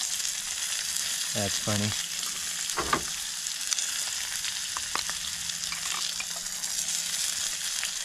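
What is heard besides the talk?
steak frying with frozen butter in pan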